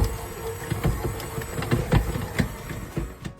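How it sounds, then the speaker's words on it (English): An electric mixer kneading dough, a busy mechanical whir with irregular knocking pulses as the dough thumps around the bowl, running close and steady for a few seconds with no talking. "Putting it back to the mixer."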